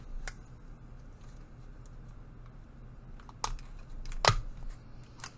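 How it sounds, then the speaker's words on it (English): A hand stapler drives staples through paper across the top of a handmade shaker card, giving two or three sharp, quiet clicks spaced apart in a still room. "I will staple it across the top"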